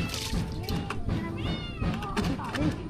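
A rescued cat meows several times in short, rising calls, close by, with people talking over and around the cries and a few soft thumps.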